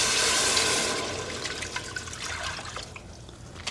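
Milk slowly poured into a hot pan for creamy bacon pasta, a soft liquid splash and trickle that starts louder and fades into quiet sizzling and dribbling over about four seconds.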